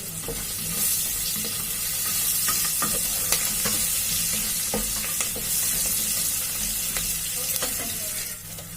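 Oil sizzling steadily in a pan at medium frying, with occasional sharp clicks and scrapes as the food is stirred.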